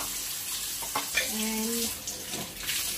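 Tap water runs steadily into a kitchen sink while utensils are rinsed before going into a dishwasher, a constant close hiss with a faint brief tonal clink in the middle.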